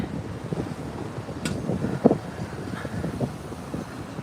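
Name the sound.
wind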